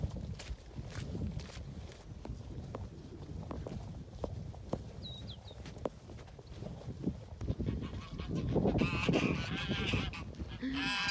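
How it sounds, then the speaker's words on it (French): Geese honk in a rural farmyard past a pen of sheep, scattered calls at first, then a louder flurry of overlapping honks near the end, with footsteps on the ground throughout. "les oies"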